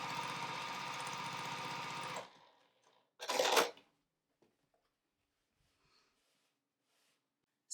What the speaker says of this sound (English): Then I'm going to sew it along the side of this block that I'm building.